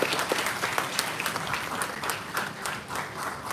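Audience clapping steadily at a 2023 conference award ceremony, a dense even patter of many hands sustained throughout, moderately loud with no clear talk over it.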